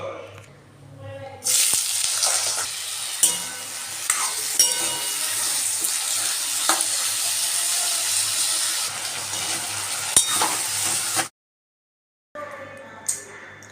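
Cut potatoes sizzle and fry in a hot pan in a home kitchen, a steady crackling hiss that holds for roughly ten seconds with occasional sharper pops and stirring clatter, then cuts off briefly before resuming, with faint voices in the background.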